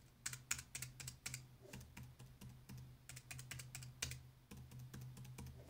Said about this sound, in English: this is the typical sound of all keys